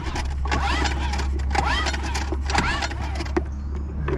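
Three quick pulls on a small engine's starter cord, each a rising whirring zip about a second apart, as trapped gas is blown out; quiet, close, over a low steady hum.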